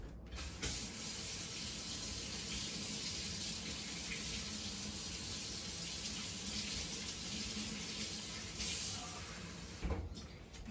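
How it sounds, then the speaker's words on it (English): Warm water runs steadily from a kitchen faucet into a measuring cup for about ten seconds, a constant hissing splash close by, ending with a clunk as the tap shuts off. "I'm going to use a measuring cup, and I'm going to put warm water from the faucet in this"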